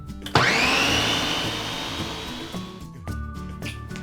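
A food processor pulses a falafel mixture, starting with a sharp motor whir that holds loud and steady, then eases off into shorter bursts near the end, with no voices.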